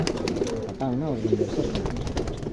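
A two-year-old pigeon cooing close by in a loft, one clear rolling coo in the middle over a noisy outdoor background with people talking.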